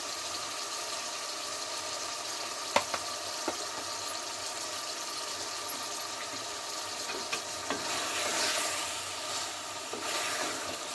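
Chicken pieces of a home-raised desi hen fry in a pan with ginger-garlic paste, a steady close sizzle with a few sharp scrapes of stirring scattered throughout, no voices.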